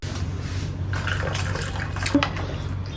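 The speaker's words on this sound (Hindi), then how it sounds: "पानी गर्म हो गया, गरम गरम पानी में बस ये सूप के पाउच मिला देने होते हैं" Hot water being poured into a container to make packet soup in a home kitchen, a steady splashing stream with a low hum underneath and a brief clink near the end, no speech.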